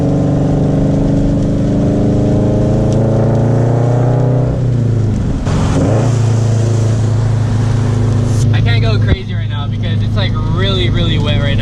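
Subaru FRS with a Borla unequal-length header idling and revving in heavy rain, a loud, close, rumbling exhaust note with a rising then falling rev in the middle and a brief voice near the end.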